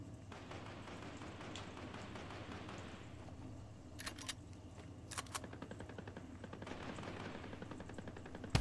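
Rapid bursts of automatic gunfire ring out in the video game Fortnite, faint and distant over a steady background hum, with a few short volleys spread through the middle and end.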